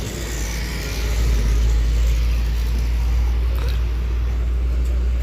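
Steady road traffic in a slow-moving jam, a continuous loud rumble of car and motor engines with low hum and hiss throughout, no voices.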